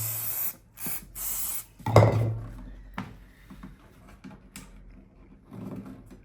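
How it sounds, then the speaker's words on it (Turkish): Short hissing bursts of an aerosol spray can during repair of a broken oud, several quick sprays close by with some handling clatter and a thud in between. "Spreyi sıkacağım."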